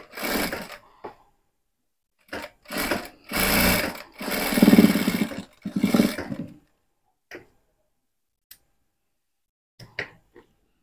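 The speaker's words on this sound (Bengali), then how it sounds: "এই জায়গায় এটা চাপ সেলাই করে দিব।" A sewing machine stitches a boy's half pants in several short bursts of whirring, each a few seconds long, separated by pauses with faint clicks.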